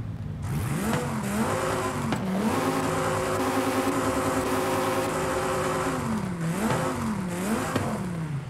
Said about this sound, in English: Get rid of that tinny noise in the exhaust.